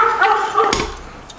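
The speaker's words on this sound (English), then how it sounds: "my dog is barking at me" A pet dog barks close by in a quick burst of one or two sharp, yipping barks, loud and brief, with no one talking.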